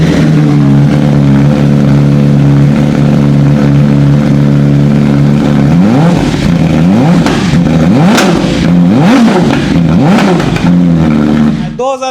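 A BMW S1000 RR superbike fitted with an SC Project slip-on exhaust idles loudly, then blips through several sharp rising and falling revs before settling back to idle.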